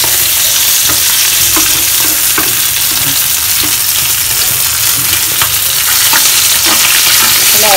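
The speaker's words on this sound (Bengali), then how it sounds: "মাছ ভাজা অলমোস্ট ডান, এখন আমি কীভাবে তুলে নেব আস্তে আস্তে করে।" Fish fries loudly in a pan, a dense steady sizzle and crackle with occasional light scrapes and knocks as pieces are moved, close and continuous without speech.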